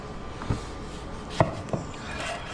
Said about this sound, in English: let's start cutting up this eggplant